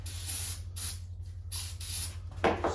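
Aerosol starting spray hisses in several short bursts into the engine of a Yamaha Banshee on a freezing day, with a low steady hum underneath and a sharper burst at the end.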